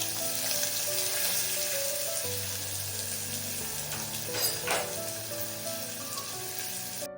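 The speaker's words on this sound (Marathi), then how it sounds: "आणि शेवटी हिंग त्याच्यामध्ये कांदा टाकून देते" Onion and asafoetida frying in oil, a soft continuous sizzle with a faint running-water sound and light stirring, no speech.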